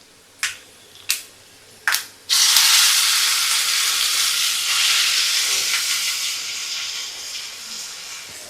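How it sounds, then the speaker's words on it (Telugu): Three quick stirring taps, then tamarind leaf chutney hits the hot tempering oil with a loud burst of hissing sizzle that slowly fades over several seconds. "దీంట్లోనే చట్నీ వేసేద్దాం"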